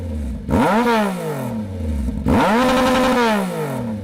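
A motorcycle with a loud aftermarket exhaust revs hard twice, the exhaust note rising and falling in pitch with each throttle blip, close and dominant.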